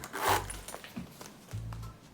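A small zipper on a Gucci Dionysus leather bag slides open and shut in two short, close rasping pulls.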